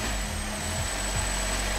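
A Honda car engine idles high with its throttle body stuck open, giving a steady, close mechanical hum with a constant whine on top and no speech.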